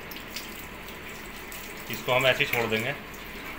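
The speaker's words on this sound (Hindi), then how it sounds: "चटकन ऑन कर दिए हमने और ये पानी हमारा देखो चालू हो गया।" Coolant water pours from a pipe onto a VMC machine, a steady watery rush running under a faint background hum and then beneath a voice.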